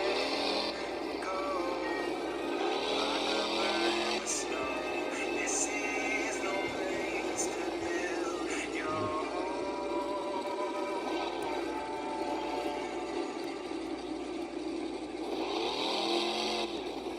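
A monster truck engine in BeamNG.drive revs and roars continuously, rising and falling in pitch during a wheelie run, with faint commentary underneath.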